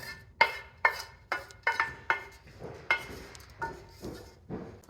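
Sautéed olives scraped and spooned from a pan onto a plate: about ten sharp metallic clinks and scrapes at a fairly even rhythm, close and moderately loud, with no talking.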